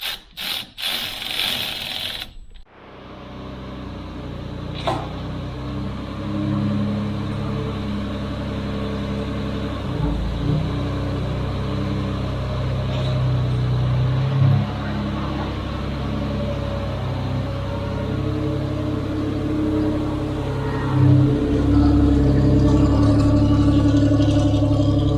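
A Unimog 404 engine starts with a brief burst, then runs steadily as the truck drives off on a test drive, a continuous close mechanical drone that rises slightly over time with a few clunks along the way.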